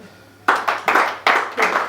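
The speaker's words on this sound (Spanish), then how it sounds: "Dale un aplauso a Dios." A church congregation claps in rhythmic bursts during a Christian sermon, several sharp beats following one another quickly, close and fairly loud after a brief quiet start.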